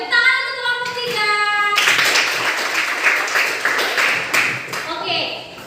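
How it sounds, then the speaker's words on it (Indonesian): Students in a classroom clap for a group after a discussion, a burst of applause starting midway and running loud, preceded by a tonal sound and followed by a teacher's voice. "Oke, tepuk tangan untuk kelompok 3."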